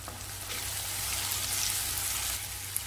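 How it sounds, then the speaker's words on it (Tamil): Tomatoes with crushed ginger and garlic sauté in a hot pan, a steady close sizzle hissing continuously for a few seconds with no voices. "தக்காளி சேர்த்து வதக்கலாம். நச்சு வச்சுருக்க இஞ்சி பூண்டு சேர்த்துக்கலாம்."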